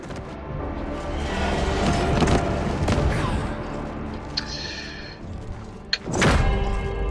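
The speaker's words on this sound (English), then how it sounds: "That's a big explosion," A big in-game explosion in 33 Immortals booms with heavy thuds and crackling bursts amid ongoing game sounds, followed by a sharp impact and another rumbling blast near the end.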